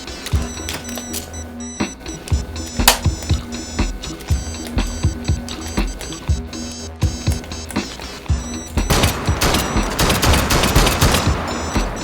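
Semi-automatic pistol fired repeatedly in the VR shooter game H3VR, a seven-round gun: a string of sharp, loud reports at irregular spacing, followed by denser clattering handling and impact noise toward the end, with no talk.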